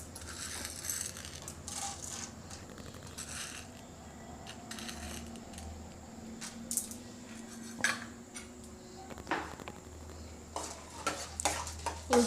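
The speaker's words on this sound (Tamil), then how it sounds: "உளுத்தம்பருப்பு கொஞ்சம் செவரட்டும்." Urad dal fries in about two spoons of oil in a pan while being stirred, giving a quiet sizzle with intermittent scraping and clinking of the spoon against the pan, growing a little busier toward the end.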